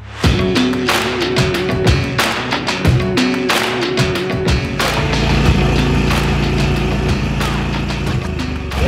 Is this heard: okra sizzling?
no